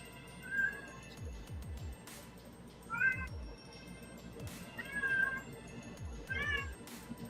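A cat meows several times at irregular intervals, short close mews over a low background hum and faint clicks, with no talking.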